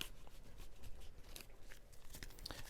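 Tarot cards being shuffled by hand, close and quiet, with irregular crisp riffles, slaps and rustles of card stock over a few seconds.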